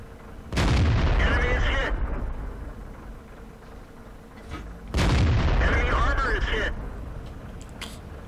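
Two booming Panther tank cannon shots in World of Tanks, several seconds apart, each a loud sharp blast with a rolling echo tail, while someone talks over the game.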